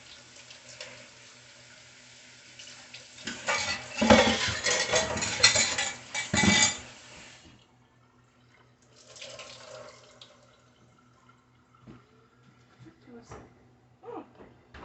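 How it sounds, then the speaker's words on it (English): Kitchen tap water runs while dishes are rinsed in a sink, a steady hiss that swells for a few seconds with clinks of cutlery and crockery, then fades to quieter handling noises. "let me give this a quick rinse while we're waiting on our pumpkin."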